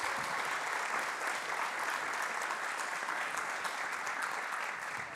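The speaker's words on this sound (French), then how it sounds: "Je crois qu'on peut applaudir Assad pour son témoignage." An audience applauds a speaker's testimony at a French-language peace and accountability event, a steady dense wash of many hands clapping that holds evenly for about five seconds with no voices over it.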